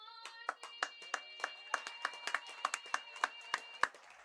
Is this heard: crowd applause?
yes